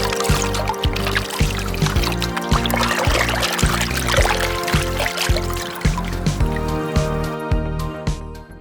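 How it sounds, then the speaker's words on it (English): Water poured onto the hyper-curved, oleophobic-coated screen of a Huawei Mate 30 Pro phone makes a steady trickling, splashing sound during a waterproof test, with a rhythmic tonal background underneath. "When we drop water on the screen, the hyper-curved screen adds an oleophobic layer, allowing the water to slide smoothly."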